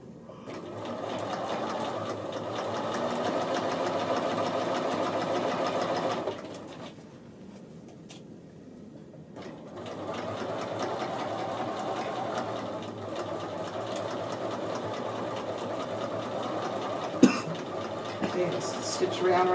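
Sewing machine edge stitching a men's shirt collar, a steady close motor whir that pauses briefly midway and then resumes, with a voice talking over it.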